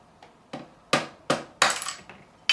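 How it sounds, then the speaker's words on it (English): A fretting hammer gently taps a straight edge against the nut of an Epiphone Les Paul Standard guitar, giving five or six sharp, light knocks at an uneven pace, close and fairly quiet. "I'm going to take my fretting hammer and this not straight edge,"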